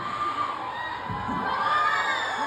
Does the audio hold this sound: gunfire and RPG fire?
no